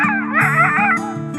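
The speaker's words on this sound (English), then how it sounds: "We find Frank Moe and his 43 dogs" Sled dogs at a kennel of 43 dogs in Hovland, near the Canadian border, yip, whine and bark in a close, loud, excited burst of overlapping calls with a howling, whimpering edge.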